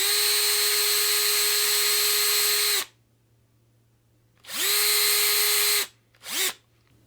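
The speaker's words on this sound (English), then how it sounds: "I hold the neck as straight as I can and the drill as straight as I can, and I just go down about 1 mil into the fretboard" An electric drill bores a tiny hole into a guitar fretboard in three bursts: a long steady whine, a pause, a second run, then a short final blip, loud and close with no talk.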